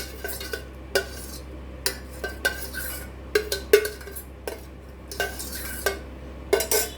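A spoon scrapes and clinks around the inside of a metal pot, spreading a spoonful of homemade curd starter before milk is added, in quick irregular bursts of stirring over a quiet background.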